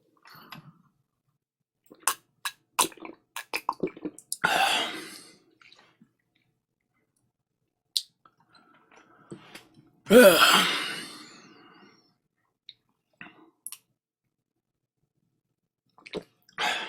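Water pours into a container during a livestream in a couple of short bursts, one rising in pitch as it fills, separated by quiet clicks, handling noises and breaths.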